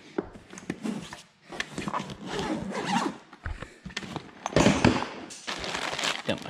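A BCA backcountry tunnel bag is unzipped, giving several close rasping zipper pulls with short pauses and some fabric rustling between them.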